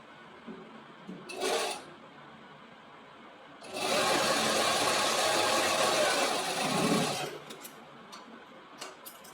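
A sewing machine runs a seam along fabric near half an inch from the cut edge during tailoring, starting with a short burst, then a steady loud whir of about three and a half seconds, then trailing off into faint clicks.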